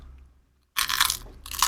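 Two loud, crisp crunches as teeth bite into a spicy chili-flavored potato chip, the first after a moment of near silence and the second following a brief pause, close and dry.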